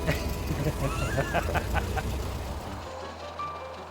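A Ford Model T engine chugs along while driving, a low rumbling drone with pulsing beats that eases off partway through as the throttle closes, leaving a quieter idle-like hum.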